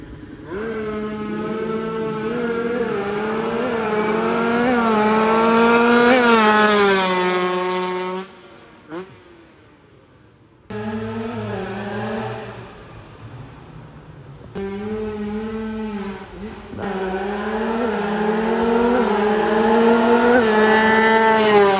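A motorcycle engine being tuned at Sentul by a tuning shop, revving loud and close in long sweeping rises and falls, cutting out briefly twice before roaring back up.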